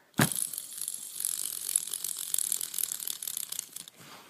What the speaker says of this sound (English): this is a silver 2-sided fidget spinner